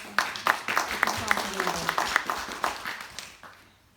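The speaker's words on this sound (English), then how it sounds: "Let's give him a round of applause." Small audience at a public meeting on a road improvement project giving a short round of applause, a modest patter of clapping with a few distinct near claps, fading out after a few seconds.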